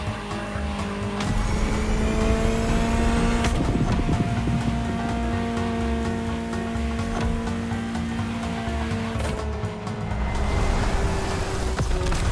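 In The Crew Motorfest, a Ferrari engine holds a loud, continuous high-revving howl with brief dips at gear changes and occasional tire squeal, heard alone without voices.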